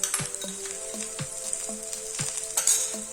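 Cumin seeds sizzle as they fry in a pan, a bright, constant crackle with a spoon clinking and scraping in a steady stirring rhythm.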